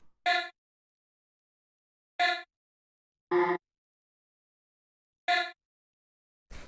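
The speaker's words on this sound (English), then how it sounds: "Next thing we have here is this little vocal stab" A short pitched vocal stab sample from a tech house track fires five times in an uneven rhythm, each hit a crisp, bright chord-like burst about a quarter second long, alone in silence, one hit pitched lower.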